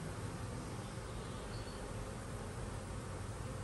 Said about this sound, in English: They're still fanning.